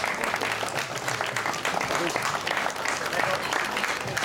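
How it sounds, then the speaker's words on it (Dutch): Warm, continuous applause from spectators at an outdoor junior cycling podium ceremony in Beringen, a dense wash of clapping held steady for several seconds with faint crowd murmur beneath. "gaan we een eerste maal een kiekje schieten voor de Dita Arkegeen samen met een warme applaus."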